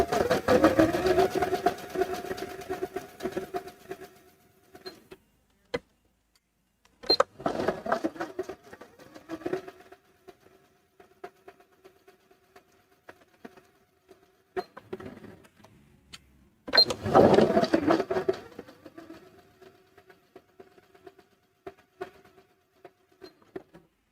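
A sewing machine stitches fabric for a sunglass case in three loud bursts of steady whirring, each a few seconds long, separated by quiet pauses with faint handling noise.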